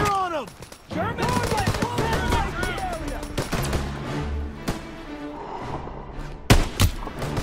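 Rapid bursts of rifle and machine-gun fire from a World War II battle in Call of Duty WWII, loud and close, with scattered single shots and thuds over a steady din and shouting voices.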